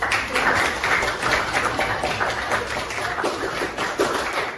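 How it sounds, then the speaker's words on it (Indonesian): A classroom of students clapping hands together, a dense steady patter of many claps lasting several seconds at moderate loudness with no talk over it. "kita beri tepuk tangan"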